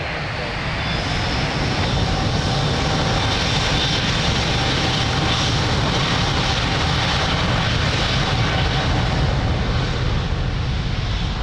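A jet airliner taking off at Lisbon Airport produces a loud, steady broadband engine roar with a high whine layered on top. The sound is sustained and even throughout, heard at a moderate distance with no pauses.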